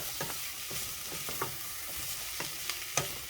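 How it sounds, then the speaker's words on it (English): Vegan korma ingredients stirred in a frying pan, with repeated scraping strokes over a steady soft sizzle, close and moderately quiet, no voices. "Just give that a good old stir there."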